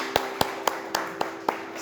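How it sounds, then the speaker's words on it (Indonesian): A few people clapping at a slow, even pace in a classroom lecture, six sharp separate claps at moderate volume with no voices over them. "Tepuk tangan untuk Stephen."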